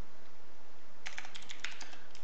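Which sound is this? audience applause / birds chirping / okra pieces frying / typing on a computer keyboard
typing on a computer keyboard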